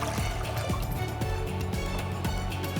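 Half a litre of water is poured into a pan to make sugar syrup for an Indian dessert, a steady close trickle and splash running throughout with faint knocks in the background.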